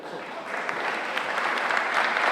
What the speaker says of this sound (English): It's okay to clap for Ikaika